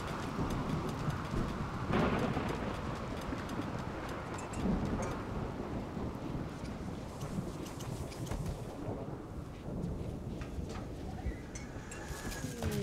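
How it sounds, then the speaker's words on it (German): In the video game RimWorld, a lightning strike hits during a rainstorm. Steady, dense rain hiss fills the whole stretch, with a brief louder burst early on. "Jetzt hat hier ein Blitz direkt eingeschlagen. Der Regen wird das Feuer löschen."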